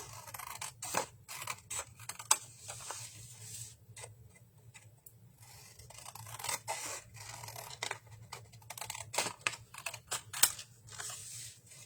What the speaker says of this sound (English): I'm going to cut along the base here.